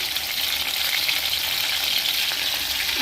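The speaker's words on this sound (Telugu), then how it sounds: "ఇప్పుడు ముందుగా కట్ చేసి ఉంచుకున్న పెద్దది ఒకటి ఉల్లిపాయ వేస్తున్నాను." Chopped onion and green chillies frying in hot oil for a dondakaya (ivy gourd) masala curry, a loud, steady, dense sizzle without pause, no voices.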